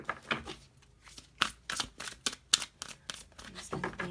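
A deck of tarot cards being shuffled close by, giving a run of quick, crisp riffling snaps and flutters in uneven bursts, with quiet talk between them.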